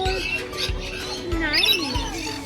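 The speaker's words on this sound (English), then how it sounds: "Look at this beautiful green bird." A green bird in a walk-in aviary gives brief chirps and a rising call amid a busy background of other birds and soft repeated thumps.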